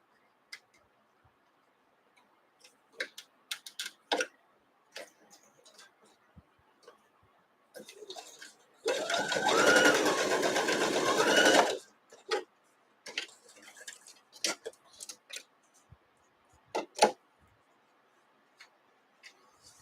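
A sewing machine stitches a seam in a quilt block, a single steady whirring burst of about three seconds set among quiet ticks and clicks of fabric handling.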